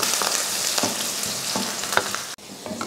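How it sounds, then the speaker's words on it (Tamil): Shallots sizzle and crackle steadily in hot oil with mustard seeds and fenugreek, a close, continuous frying hiss broken by a few soft stirring clinks, with no talking. "வெங்காயம் வந்து நல்லா பொன்னிறமாக வதங்கட்டும்"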